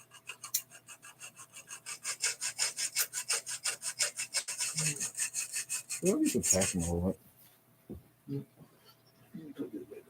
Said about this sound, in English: Luckily, aluminium is a relatively soft metal, so it can be cut with the simple tools I've got.